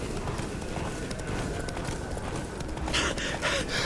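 Roach, a horse in The Witcher 3, gallops in a rapid, steady clip-clop of hooves, fairly close and continuous, with a brief brighter scuffing near the end.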